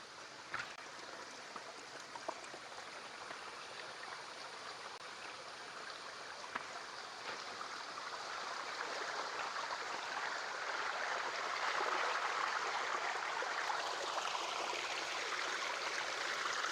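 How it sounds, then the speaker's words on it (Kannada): A slow-flowing waterfall in low season makes a steady hiss of falling water that thickens slightly toward the end, with no voices. "ಅಷ್ಟೊಂದು ಮಳೆ ಆಗಿಲ್ಲ, ಸ್ಲೋ ಇದೆ ಫಾಲ್ಸ್"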